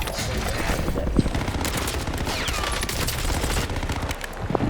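Rapid gunfire from a NailGun in a Call of Duty Warzone match on Rebirth Island, a dense, continuous clatter of shots with sharper bursts layered in, loud and close throughout with no talking.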